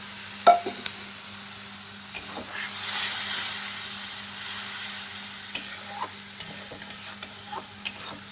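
Turmeric frying in a pan for tarka while a spoon stirs it, giving a steady soft sizzle with a few sharp scrapes and clicks of the utensil scattered through, close and moderately quiet, with no talking.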